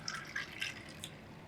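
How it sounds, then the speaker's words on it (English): Hot cedar drink poured over ice, with scattered bright drips, splashes and light crackles of liquid hitting the ice, close and fairly soft, with no talking. "you could just pour it right over some ice right there."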